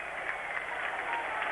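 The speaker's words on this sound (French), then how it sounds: "les applaudissements qui saluent la sortie d'Hagi, héros national ici en Roumanie" A stadium crowd at a 1994 World Cup qualifier between Romania and Belgium in Romania applauds a substituted star player, a steady distant wash of clapping with no voices on top.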